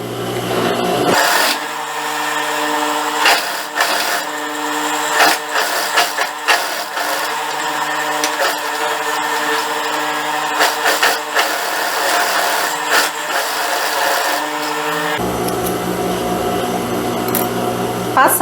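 A sewing machine topstitches along the edge of a child's ruffled blouse, running in a loud, continuous mechanical hum for most of the stretch, then stopping abruptly near the end.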